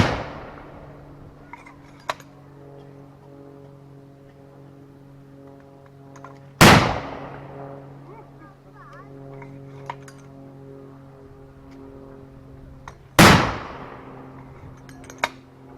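Three sharp, loud gunshot blasts from 1940s-era weapons ring out at a firepower demonstration held at a 1940s day at a Shropshire inn, each crack trailing off as steady engine hum and faint crowd chatter fill the gaps.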